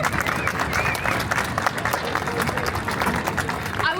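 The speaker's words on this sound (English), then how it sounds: "Let's give them another round of applause." A crowd claps steadily at a Polish flag raising ceremony in Daley Plaza, Chicago, dense sustained applause with some cheering and crowd murmur mixed in throughout.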